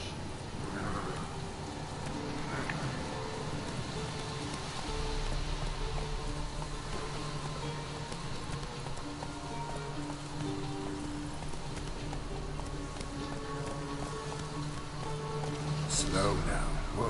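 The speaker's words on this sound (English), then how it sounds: "Whoa there, Roach" Horse hooves from The Witcher 3 video game plod on wet ground in steady rain, a soft rhythmic clip-clop under constant patter, with faint game ambience and occasional distant voices.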